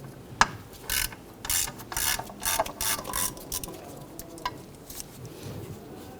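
A ratchet spins out an 11 mm valve cover bolt on a 1997-2006 Jeep Wrangler in a series of quick clicking and rasping bursts, close and fairly quiet, with short pauses between them and no voices.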